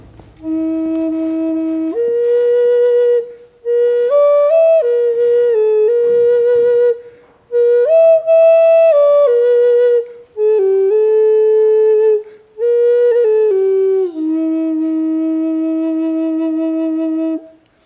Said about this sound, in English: That's a native flute. These are the type of flutes that I make.